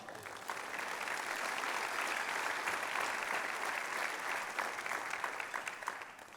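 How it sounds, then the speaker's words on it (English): A hall of fame induction audience applauds steadily for the honorees, a sustained wash of many hands clapping at moderate distance that holds for several seconds before tapering slightly. "let's have a round of applause for all of these men, please, and women"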